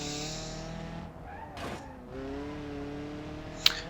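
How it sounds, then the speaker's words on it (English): Damaged car with its exhaust knocked off, driven along a bumpy, twisting circuit in the BeamNG.drive video game: a harsh, rough engine drone rising and falling with revs, a brief tyre scrub, and a sharp click near the end. "Many loud noises now coming from the vehicle, but seems to be driving okay."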